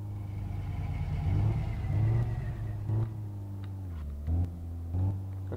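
A throttle-bodied car in the game My Garage drives on steadily with a low, constant engine drone, rising in several short revving pushes on the accelerator before settling back.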